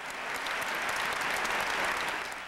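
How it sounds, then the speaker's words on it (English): An orchestra concert audience in Madrid, Spain, applauds after the Pittsburgh Symphony's encore of Massenet's El Cid, a dense, sustained wash of clapping from a large hall crowd. "with the audience cheering an encore of Massenet's El Cid"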